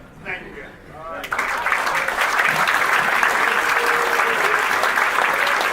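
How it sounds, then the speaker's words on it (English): Audience applause at the Ring 44 2018 event swells in after a brief spoken line, then holds as a loud, dense, sustained wash of clapping through to the end. "What a nice round of applause."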